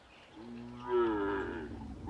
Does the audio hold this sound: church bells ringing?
no